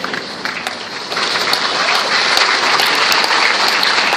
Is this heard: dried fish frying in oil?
no